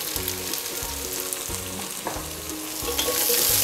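Onion, garlic and chili fry in a pot for a spicy pumpkin lemongrass soup. A loud, close sizzle runs under a low repeating hum and is joined by stirring scrapes, with no talking.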